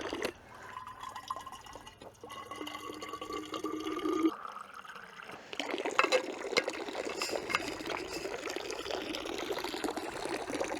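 Water poured into a container on a mountain pasture hut, a steady splashing trickle that shifts in pitch as it fills, then continues with brighter, busier splashing, no speech.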